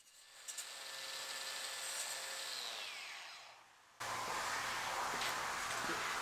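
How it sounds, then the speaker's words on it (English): Angle grinder knocking dross off a plasma-cut metal business sign, a whining spin that winds down then resumes abruptly with harsh grinding, moderately near and alone. "So Richard hands me the grinder and says, okay, hit it, go clockwise with it."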